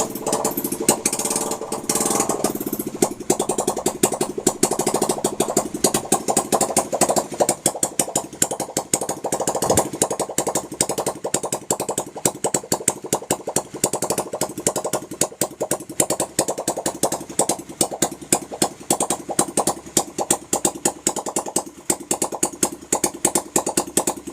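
A Bajaj Pulsar motorcycle engine chugs right after starting, running rough and uneven with a rapid, rattling beat that stays loud and close throughout, no voices.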